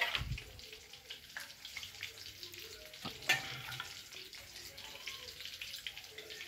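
Eggs fry in hot oil in a pan for egg curry, giving a steady close sizzle with scattered pops and a few scraping stirs throughout.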